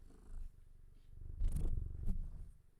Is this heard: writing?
no